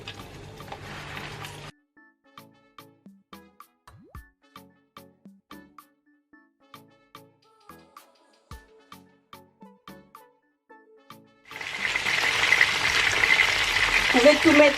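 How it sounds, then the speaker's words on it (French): Salted fish sautéing in a frying pan crackles loudly at the start, fades to a stretch of sparse light taps and clicks, then bursts back into a dense, close sizzle. "c'est juste pour sauter le poisson"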